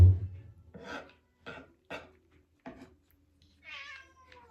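A cat meows and cries several times in short, separate calls, close and fairly clear, with quiet rubbing noises between them.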